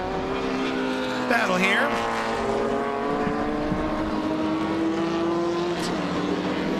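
Race cars roar past at a circuit, among them a TVR Vixen, engines sustained and loud with a rising and falling pass, under a commentator's voice.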